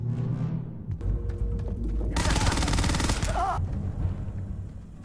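Rapid bursts of weapon gunfire in the space game Starfield, a sustained loud fusillade of shots in the middle with scattered single reports before and after, under some background game sound.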